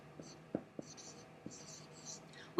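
Marker or chalk strokes on a board during a math lesson on dividing fractions come as a few short taps and scratches, with faint soft whispering between them in a quiet room.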